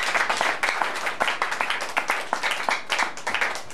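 A church congregation claps their hands in a quick, steady rhythm, the crisp claps repeating evenly throughout at moderate loudness.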